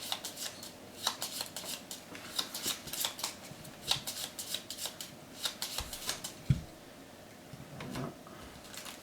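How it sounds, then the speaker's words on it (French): Card decks for a Gloomhaven board game, demon and monster attack modifier cards, are shuffled by hand at close range, with quiet rapid riffling and soft taps recurring over several seconds. "on va remélanger le deck des démons et on va remélanger le deck des modificateurs d'attaque des monstres"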